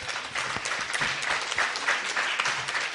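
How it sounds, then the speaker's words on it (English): Audience applause at a ladies' training event at the Dubai Chamber, a moderately loud, steady patter of many hands clapping with a few crisp individual claps, lasting about three seconds. "So we really need to give him a very, very loud round of applause"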